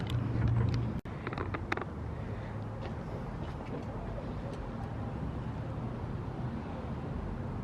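A third-generation Toyota 4Runner on 33-inch tires drives along on a test drive, its steady road and engine rumble filling the cabin, with a brief knock near the start.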